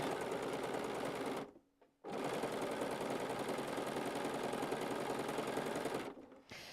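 Sewing machine sewing quilt squares, running in a long steady close whir with one brief stop and restart, then stopping near the end.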